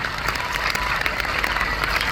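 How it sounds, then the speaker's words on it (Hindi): Audience applause at a poetry and comedy gathering in Jhajjar, a short dense burst of clapping from a crowd, fairly loud and steady. "तालियां बजाओ यहां पे"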